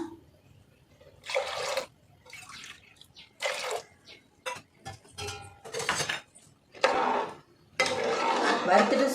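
Water splashes from a tap in several separate bursts into a pot of roasted, washed urad dal, with quiet gaps between them and light clinks of a metal vessel nearby.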